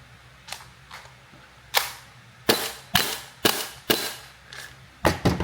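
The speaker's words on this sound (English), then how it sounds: "Get a lot more of that sort of hollow thunk with the suppressor" A Maruyama MP9 gas blowback airsoft gun with a suppressor fires about a dozen sharp, hollow thunking shots at irregular intervals, some spaced apart and a quick pair near the end, close by with no talking.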